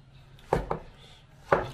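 A knife chops blanched, peeled tomatoes into small pieces on a board, giving three sharp, close thumps, two quickly together and one after a pause, with no talking.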